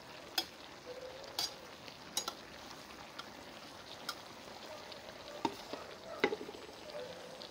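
Blanched hot peppers stew in a pan and are stirred. A soft, steady sizzle runs under a few light clinks and scrapes from a utensil against the pan, with no speech.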